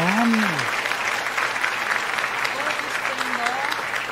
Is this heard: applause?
yes